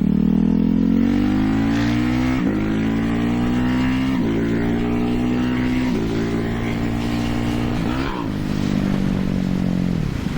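A Ducati Hyper Motard motorcycle engine revs loud and close, climbing in pitch through several gear shifts with short dips between them, then easing off near the end.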